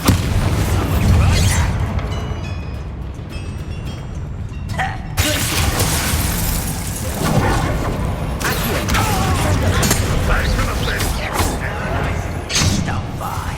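The Bombardo explosion spell cast in Hogwarts Legacy, heard as loud booming bursts and shattering crashes amid busy battle noise, with a voice speaking over the clamor.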